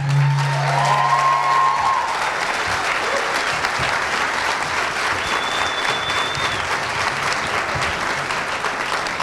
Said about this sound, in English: how about a round of applause for our Chamber President